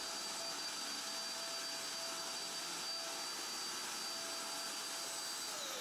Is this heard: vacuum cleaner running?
yes